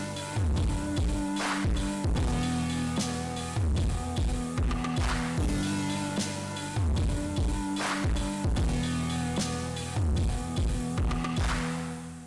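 Music bus heavily distorted by a single distortion plugin, with a gritty, saturated mix, punchy repeating drum hits and thick sustained tones throughout.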